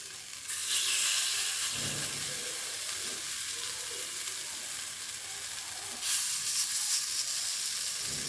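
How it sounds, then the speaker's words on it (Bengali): Green banana fritters coated with poppy seeds fry in oil over a low flame, making a loud, continuous close sizzle that swells in hissing surges, with no voices. "পোস্ত আছে এই পিঠটাই আমি তেলে দেব"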